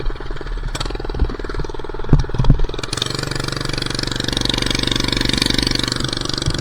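A minibike engine running nearby: a rough, rapid mechanical chatter with a few knocks, then a steady, loud throbbing putter as it pulls away.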